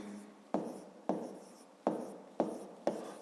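A pen writes in a notebook during a fifth-grade maths exercise, making six quiet scratchy strokes in an even rhythm, each starting with a small tap.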